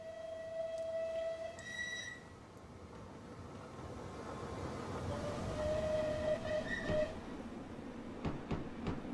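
A steam locomotive whistle in the train simulator Train Simulator 2020, Merchant Navy class Clan Line, sounds in two long, steady blasts, the second partway through, over a continuous rumble of the moving train.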